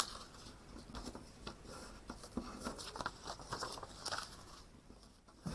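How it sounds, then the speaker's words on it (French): Paper being pressed and creased into accordion pleats, soft scratchy rustles and light taps in quick irregular bursts, close and quiet. "On appuie bien pour que les plis soient bien marqués."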